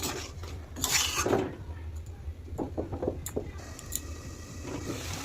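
Paneer being stirred into chana dal in a pot, a spoon scraping and clinking against the metal in a short burst and then lighter scattered taps, with no talking.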